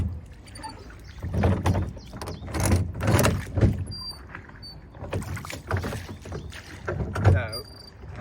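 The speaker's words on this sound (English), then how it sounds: "So we started to row in Tokunawa's garden." Oars working a rowboat on a pond in a Tokyo garden, rhythmic splashes and knocks of the oars repeating every second or so, close by, with faint background chatter.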